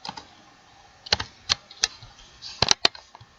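A computer keyboard being tapped in a short irregular burst of sharp, close keystrokes, a few isolated presses followed by a quick cluster near the end, over a quiet background.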